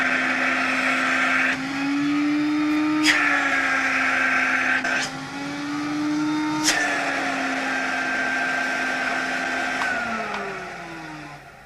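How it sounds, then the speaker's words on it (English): A vacuum cleaner fan motor whines loudly and steadily up close, its pitch shifting upward and back down several times as the inlet is blocked and released, with sharp clicks at each change and no voices. "you can actually hear the pitch of the motor rising when I block the inlet up"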